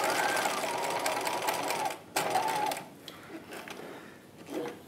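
A sewing machine stitches a 1950s halter dress bodice in two short, fairly quiet runs separated by a brief pause, followed by soft handling sounds while the needle is lowered and the fabric pivoted.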